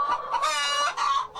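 A free-range hen on a large egg farm south of Auckland, New Zealand, gives a short, close, drawn-out cluck lasting about a second and a half.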